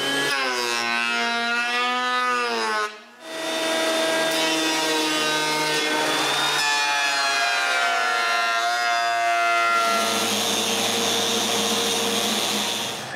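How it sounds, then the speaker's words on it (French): A woodworking machine surfaces walnut boards with a loud, sustained whine that drops out briefly and resumes, changing pitch as the cut goes on, close and steady with no voices. "Je commence par, encore, surfacer d'autres noyers."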